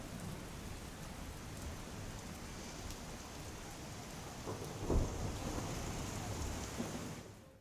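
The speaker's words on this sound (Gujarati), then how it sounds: "સુરતમાં ખાસ કરીને જ્યાં વરસાદ વધુ વરસી રહ્યો છે" Heavy rain falls steadily in Surat during a monsoon downpour, giving an even dense hiss, with a brief thunder crack and rumble near the middle, all heard at a distance.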